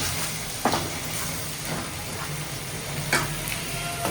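Vada fritters sizzle steadily as they fry in hot oil in a home kitchen pan, a continuous crackling hiss with a few sharper pops and spatters, heard alone at moderate loudness.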